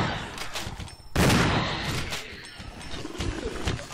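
Hunter creatures from the Resident Evil Remake video game let out loud, harsh roars with bursts of game gunfire, one sharp blast near the start followed by sustained noisy growling.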